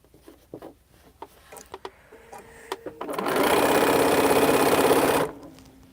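A sewing machine joins quilt block pieces, running in a steady loud whir for about two seconds after a series of soft handling clicks and taps, with no talking.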